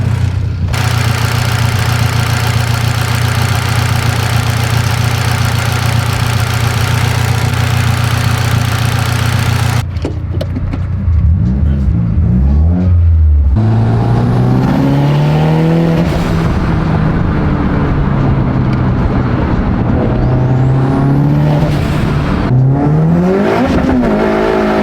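A wrecked car's engine idles roughly with a steady drone, then cuts out briefly and restarts, revving up and down in repeated swells close by, with no talk.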